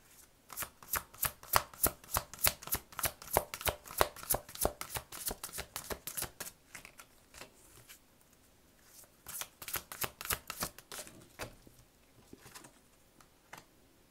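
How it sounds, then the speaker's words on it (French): Oracle cards of Isis are shuffled in a rapid, crisp riffle of flicks for about six seconds, then slower scattered card snaps and slides follow as cards are drawn, close and alone with no talk. "je vais vous tirer une carte de l'oracle d'Isis ici"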